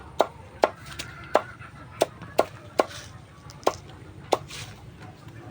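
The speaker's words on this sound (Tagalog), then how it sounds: "nagtatadtad si William ng kangkong at yung gabi" Water spinach, taro and papaya being chopped for native pig feed, a steady series of about eleven sharp knife strikes on a board at a moderate pace, close and clear with faint background noise and no talk.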